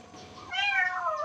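A kitten gives a single high, drawn-out meow, rising then falling, close and clear after a brief quieter cry.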